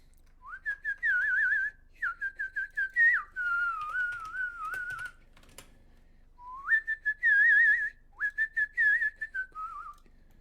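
Someone whistles a lively tune up close, in short bursts and warbling phrases with pauses between, alongside a few faint clicks.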